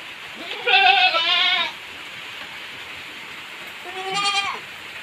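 Goats bleating in two separate bursts, a long wavering call then a shorter one, fairly close over a steady background hiss of heavy typhoon rain on a farm.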